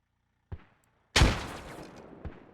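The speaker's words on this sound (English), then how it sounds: "Mortars are already firing on the north side, it looks like." Mortars fire in a video game battle: a small thump, then a loud, close blast that rings out and decays, and another softer thud follows.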